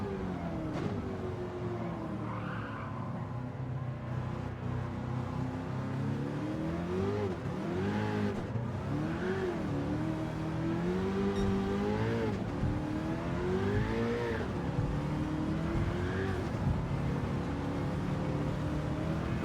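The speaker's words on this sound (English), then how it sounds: "Listen to the wheel spin." Toyota Hiace van with an engine swap racing in Gran Turismo 7, its engine revving up and down repeatedly as the wheels spin, a continuous rising and falling whine with no voices.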